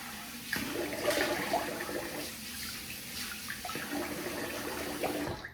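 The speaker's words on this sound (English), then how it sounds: "All right, I'm gonna rinse the face." Water runs steadily from a tap into a sink for a few seconds while a face is rinsed after shaving with a WSP Black Orchid soap and a Gibbs replica safety razor, a continuous close gush with small splashes.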